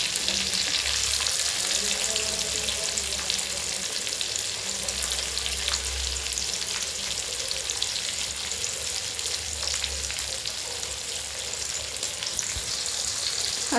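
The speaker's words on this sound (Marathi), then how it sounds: "हे पाहू शकता आपली मच्छी फ्राय झालेली आहे" Surmai fish pieces fry in hot oil in a pan, giving a steady, dense, close sizzle that runs unbroken throughout, with faint low rumbling underneath and no talking.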